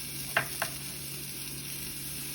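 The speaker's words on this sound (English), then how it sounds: "add our onions, give it a stir" Onions sizzle steadily over low heat in a soup pot, a soft continuous hiss with two brief scraping clicks of a spoon stirring early on.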